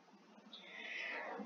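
A house cat gives a single drawn-out meow that rises and holds, heard up close and fairly clear over a faint background.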